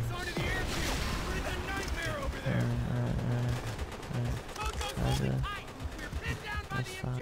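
Friendly troops in the video game Call of Duty: World at War fire gunshots and bursts across a noisy battlefield, crackling at mid distance amid shouting voices.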